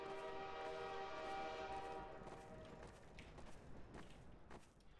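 A train approaching in Half-Life 2, its sustained horn-like tonal drone fading away beneath a low rumble, followed by faint scattered clanks and footstep-like taps, all quiet and game-like.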